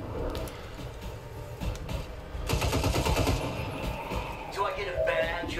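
Automatic and rapid gunfire from the sci-fi tactical video game XCOM 2, dense bursts of shots over several seconds, loudest near the middle, with game music and a voice talking underneath.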